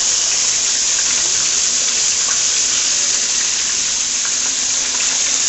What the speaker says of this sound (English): I'm just going to let them fry some more for at least 3 to 5 minutes on this side